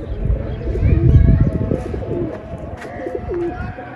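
Domestic pigeons coo repeatedly in soft, low rhythmic phrases at close range, layered with rustling and other bird chirps in a busy loft or rooftop setting, with faint background voices.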